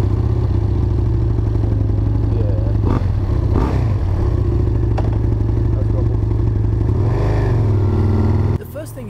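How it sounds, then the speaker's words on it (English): A 2012 Husqvarna Nuda 900 motorcycle engine idles close by with a steady, deep, loud rumble and a few light clatters, and it cuts off abruptly at the end. "These bikes sound freaking amazing though. I really love the sound of this bike."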